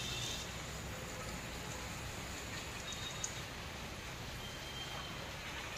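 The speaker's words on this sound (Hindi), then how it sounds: "हैदराबाद में बारिश हो रही" Steady rain in Hyderabad hisses evenly throughout, a soft constant wash of falling water with low rumbling background noise and no distinct voices.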